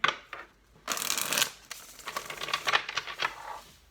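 Tarot cards riffle and shuffle in several bursts, a crisp papery rustling that starts and stops, close up and fairly loud with no talking.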